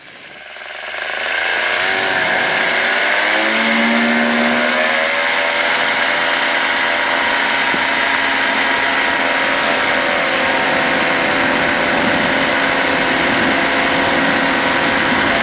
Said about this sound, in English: Definitely some torque off that engine.